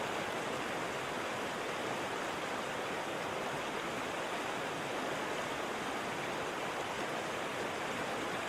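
Steady, full-bodied roar of a waterfall and rushing mountain stream in the Reculaz gorge, constant and broadband with no pauses, fairly close and enveloping.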